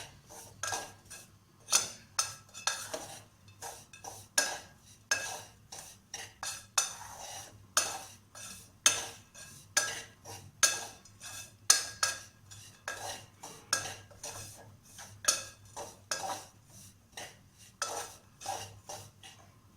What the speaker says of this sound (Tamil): மாவு வறுக்கும் போதே சேர்த்து போட்டு வறுத்தலாம்